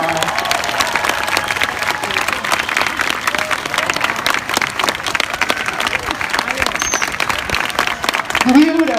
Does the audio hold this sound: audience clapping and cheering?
yes